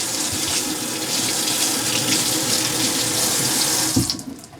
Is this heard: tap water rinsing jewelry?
yes